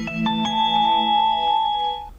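Power-on chime from a Xiaomi Roidmi 2S car FM transmitter, Chinese version: a couple of quick bright ding notes followed by a sustained electronic tone that holds for about two seconds, clear and close with no talking.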